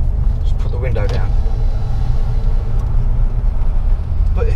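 A classic Ford F150 pickup with a 5.0 V8 engine burbles as a low, steady rumble from inside the cab while driving, with occasional voices over it.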